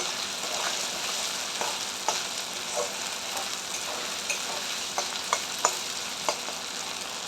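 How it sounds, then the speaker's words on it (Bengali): Ginger and garlic fry in a pan for a mutton jhol, giving a steady close sizzle broken by a handful of sharp spatula taps and scrapes as they are stirred. "আমি ভালো করে এটাকে ফ্রাই করছি"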